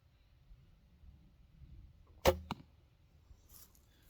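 A single sharp snap of a bowstring releasing, followed a moment later by a quick thud of the arrow striking, in an otherwise quiet outdoor setting.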